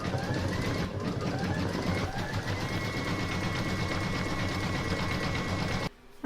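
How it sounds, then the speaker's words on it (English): An embroidery sewing machine stitching facial features in black thread runs with a steady, rapid mechanical chatter that continues almost unbroken, close and fairly loud, and cuts off near the end. "I've loaded black thread into my machine, and I'm now going to stitch all the facial features."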